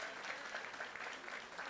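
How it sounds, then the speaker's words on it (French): An audience at a Christian launch event in Côte d'Ivoire applauds and cheers, a faint continuous wash of clapping heard from a distance. "allez donner des acclamations à l'équipe dirigeante de Ivoire Yako Solidarité"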